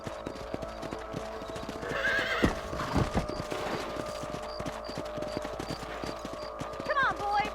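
Horses in the Red Dead Redemption video game trot with steady clip-clop hoofbeats throughout, with a whinny rising partway and another near the end, all under a faint game soundscape.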